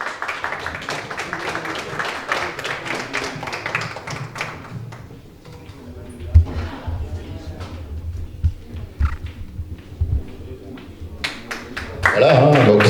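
Event audience clapping, a burst of applause that thins into scattered claps and taps, with people talking and moving about, then a louder swell near the end.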